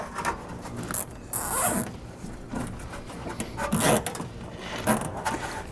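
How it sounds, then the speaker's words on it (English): Nylon zip ties ratcheting tight around trailer wiring-harness wires on a bracket behind a vehicle's rear fascia, giving several close, loud zipping rasps in irregular bursts with short pauses between. "I'm gonna take some zip ties and I'm just gonna zip tie around my wiring up here in this bracket on my fascia"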